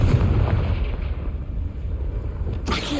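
Confringo fire spell going off in Hogwarts Legacy, a loud booming blast with a sustained rumbling roar, followed near the end by a sharp fresh burst.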